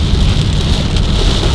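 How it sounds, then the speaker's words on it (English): Torrential rain pours down in Guatemala on the road to Lake Atitlan, a loud, steady, dense hiss of heavy downpour close by, with no voices. "it just started dumping, like torrential amounts of rain"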